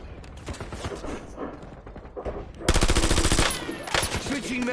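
Automatic gunfire in Call of Duty Black Ops 7 Warzone, scattered shots building to a loud sustained machine-gun burst, then further shots alongside in-game voice callouts.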